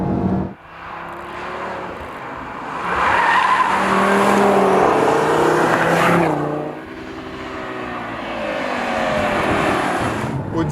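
An Audi TT RS five-cylinder engine snarls loudly, rising and falling through rev sweeps with a brief lift between pulls, close and unbroken with no talk.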